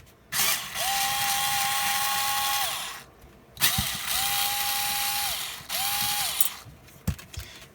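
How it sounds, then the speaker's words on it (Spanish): An electric power screwdriver whirs in several bursts, backing screws out of an electric jigsaw's casing during disassembly, with brief pauses and small clicks between runs, close and fairly loud. "Hay que empezar por estos tornillos que está acá."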